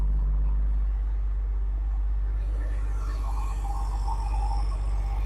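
A 1995 Porsche 993 Carrera Cabriolet Tiptronic with its flat-six engine running, heard from the rear of the car as a smooth, steady, low idle drone, continuous and even, with no voices.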